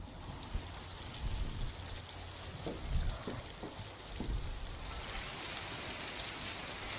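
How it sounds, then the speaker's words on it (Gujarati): Heavy rain pours steadily during a thunderstorm in Shamlaji, Gujarat, a dense continuous wash of noise with a few brief louder spatters in the middle and a brighter hiss in the last seconds. "આજે પણ ગાજવીજ સાથે વરસાદ વરસ્યો"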